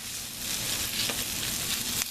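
Potatoes frying in a pan for ranchera tacos, a steady dense sizzle with soft crackles and a few brief pops, loud and close with no talking.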